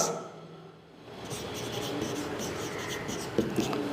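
Handwriting during a maths lesson, with close, scratchy strokes that start after a short quiet moment and carry on steadily. A faint voice is barely present in the background.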